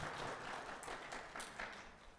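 Church congregation clapping together in welcome of visitors at a Sunday worship service, a faint, steady patter of hands that sounds distant and soft throughout.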